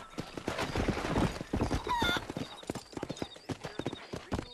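Horse hooves clip-clop in quick, uneven beats while herding cattle in the video game Red Dead Redemption, with faint animal calls and a few brief voice-like sounds mixed in among the close, crisp hoof strikes.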